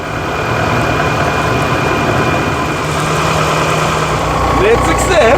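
A Rover 75 diesel engine idles steadily just after a fuel pump repair, a continuous rumbling drone with slight roughness that holds through the whole stretch, close to the microphone.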